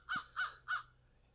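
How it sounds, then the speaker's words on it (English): Three loud caws from a crow ring out outdoors in an even rhythm, each harsh call about a quarter second apart, followed by quiet with faint background hum. "you can hear the birds are even laughing at my project here"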